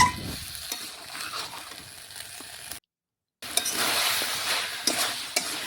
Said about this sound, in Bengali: আবারও কিছুক্ষণ দেখুন মিশিয়ে আমি রান্না করে নিচ্ছি।